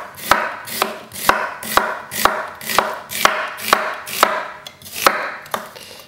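A kitchen knife chops an onion on a cutting board with the fingers curled, pushing the blade down in a steady rhythm of about a dozen crisp, close taps, each a sharp knock of wood with a brief crunch.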